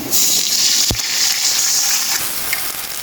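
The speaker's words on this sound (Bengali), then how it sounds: "এখন পেঁয়াজটা ভাজা হয়ে গিয়েছে, এখন আমি একটু পানি দিয়ে দিচ্ছি।" Water poured into a pan of fried onions for spicy chickpea curry, a steady hissing gush with a brief knock partway through, loud and close with no talk.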